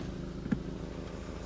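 A £500 budget car with 60,000 miles on it runs steadily, a low engine drone with a faint brief bump in revs partway through, fairly quiet and alone.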